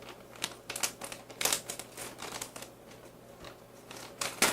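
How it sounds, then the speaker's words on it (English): Scissors snip and crinkle through the plastic of a natural, organic seed starting mix bag, giving a series of close, sharp rustling bursts at an uneven rhythm. "so I have to use the scissors"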